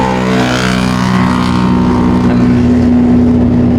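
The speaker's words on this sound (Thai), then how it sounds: "เกียร์สามคันเร่งก็เหยียบไปประมาณ หกสิบเปอร์เซ็นต์" A loaded truck hauling a trailer pulls hard in third gear at about sixty percent throttle, its engine giving a steady, loud, continuous drone close by, with no break throughout.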